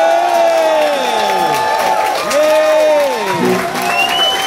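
A crowd at a live music show at the HiFi Club in Leeds cheers loudly, with whoops and shouted voices rising and falling over continuous clapping.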